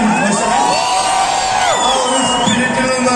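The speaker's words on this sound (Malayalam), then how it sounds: "ആ ഒരു സ്പിരിറ്റിന് ഒരു കൈയടി." A large crowd packed into a mall to see a film star cheers and whoops loudly and continuously, with shouting voices rising over the din.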